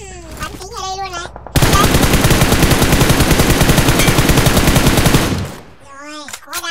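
Sustained automatic gunfire in PUBG Mobile during a final-circle fight, a loud rapid burst of about four seconds, with someone talking briefly before and after it.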